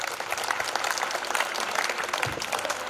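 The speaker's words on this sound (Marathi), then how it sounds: "एकदा सर्व विद्यार्थी आणि सर्व शिक्षकांसाठी जोरदार टाळ्या होऊन जाऊ द्या." An audience claps loudly and continuously for students and teachers at a teachers' award ceremony, a dense, even wash of applause.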